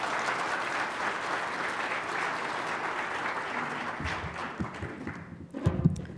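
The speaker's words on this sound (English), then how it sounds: "How about a round of applause?" An audience at a talk on city design gives a steady round of applause that holds evenly, then breaks into scattered claps and rustling as it fades.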